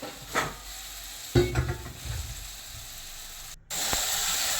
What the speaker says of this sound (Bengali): সবজিগুলো দেওয়ার পর তারপর ভালো করে একটু নেড়ে নিতে হবে।